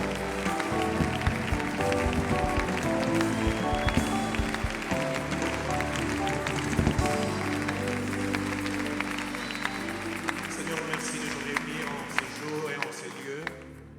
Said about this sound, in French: Est-ce qu'on peut offrir ensemble une offrande d'acclamation?